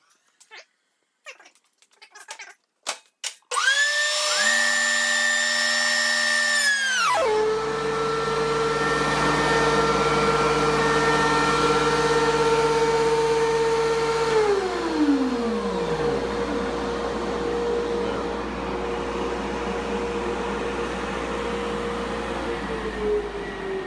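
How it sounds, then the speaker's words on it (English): A wood planer spins up with a loud rising whine, then runs steadily as a board feeds through, its pitch sagging under load before the motor winds down near the end. "Happens if we run this through the planer one more time."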